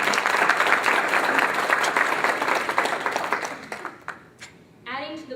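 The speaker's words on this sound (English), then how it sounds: "Let's offer our applause and thanks to these wonderful people." Dense audience applause for honored guests at a Mrs. United States pageant event, fading out before a speaker's voice takes over at the end.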